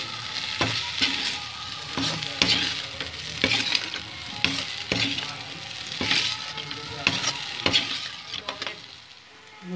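Potatoes with garam masala are tossed in a frying pan, sizzling loudly while a spatula scrapes and knocks against the metal in a regular, repeated stirring rhythm.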